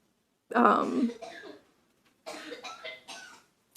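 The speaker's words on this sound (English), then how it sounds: "one of my kids is coughing, sorry." A child gives a couple of harsh coughs, then a second quieter cluster of coughing, close by with no talking.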